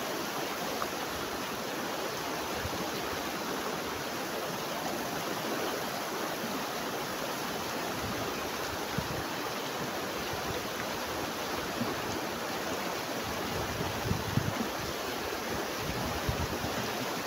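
The Dupinga river flowing, a steady, broad rush of moving water close by, continuous and unchanging with no voices.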